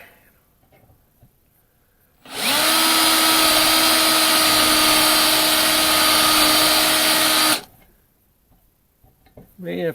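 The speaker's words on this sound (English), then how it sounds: "let's get back to drilling here" A power drill whirs at a steady high pitch for several seconds drilling metal fender brackets, starting and stopping abruptly, with quiet handling noises before and after.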